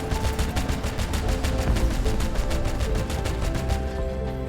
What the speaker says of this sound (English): I think the sound effect while shooting doesn't fit the weapon